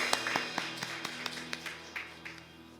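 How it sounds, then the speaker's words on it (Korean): A church congregation gives a round of applause during a Sunday worship service: faint, fairly evenly spaced claps in a roughly steady rhythm that trail off toward the end. "우리에게 사랑을 주신 주님께 영광의 박수 올려드리기 원합니다."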